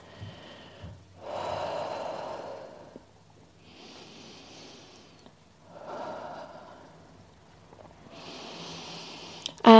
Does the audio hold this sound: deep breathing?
yes